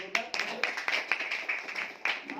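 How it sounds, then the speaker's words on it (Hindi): Scattered hand claps at an indoor meeting in Kota, Rajasthan, welcoming first-time attendees, a few light uneven claps coming and going beneath ongoing talk. "एक बार ताली दो इनके लिए"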